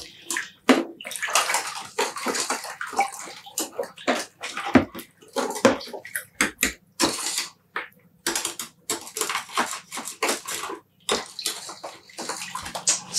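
Soda ash stirred into water in a container for dyeing cotton yarn, giving repeated close scraping and clattering strokes with watery sloshing, loud and irregular, no talking.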